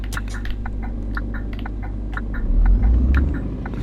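A truck engine drives along in the On The Road Truck Simulator game, with a steady, close, low rumble that swells toward the end. Light rhythmic ticking clicks repeat over it.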